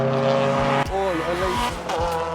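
A race car circuits the track on a cold day while its driver works heat into the tyres, the engine revving high with repeated gear shifts and tonal whine, loud and close, as someone talks over it.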